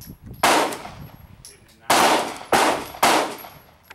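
Four sharp gunshots at a target, loud and close, the first alone and then three in quick succession, each with a short ringing decay and no talking.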